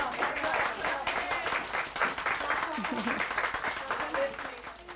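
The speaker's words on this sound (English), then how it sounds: "a round of applause for the musicians of the South Florida Chamber Ensemble" Audience applause for the musicians of the South Florida Chamber Ensemble, steady clapping from a moderate-sized crowd that fades toward the end, with a voice faintly audible underneath.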